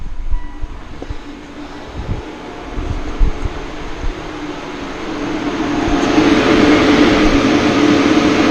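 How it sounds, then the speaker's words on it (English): Battery cooling fan of a Mitsubishi Outlander PHEV running with climate control off, a steady broadband whoosh that swells louder over the last few seconds, with faint low rumbles beneath. "That's the battery cooling fan."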